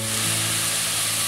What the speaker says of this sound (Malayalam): സവാള ചേർത്ത് കൊടുക്കുക അല്പം ഉപ്പ് കൂടി ചേർക്കാം